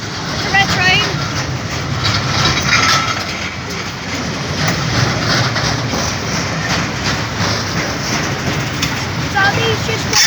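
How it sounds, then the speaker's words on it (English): Maritime freight trains roll through the Romanby Road level crossing in Northallerton, a loud continuous rumble and clatter of wagons close by, with people talking over it. "Oh, it's two trains again."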